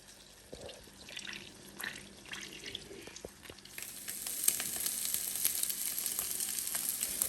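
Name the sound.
omelette frying in butter in a pan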